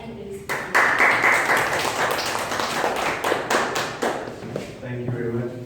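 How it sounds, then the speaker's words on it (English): Applause from an audience at a live English talk event, a steady crowd of clapping hands sustained for several seconds, fairly loud and dense with faint voices mixed in. "a huge round of applause for him as he will be in the stage"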